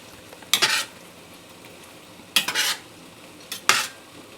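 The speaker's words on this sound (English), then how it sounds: "And now we'll give it a nice big stir" Bolognese sauce with wine is stirred in a pan: three separate scraping, sloshing strokes of a utensil, each a short burst with quiet pauses between, close up and with no talking.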